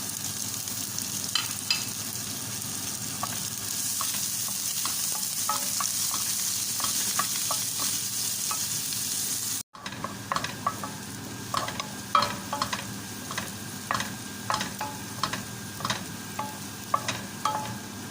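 Onion for vegetable spring rolls sautés in a pan with ginger. A steady sizzle carries on underneath, and intermittent spatula scrapes and stirs come through. A brief cut near the midpoint is followed by louder, more frequent scraping taps.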